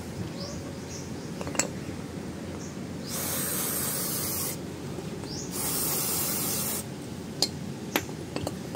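Two long, close bursts of aerosol spray hiss out onto a rear brake pad of a Suzuki Raider 150 FI motorcycle, separated by a pause, with light metallic clinks and handling noises around them.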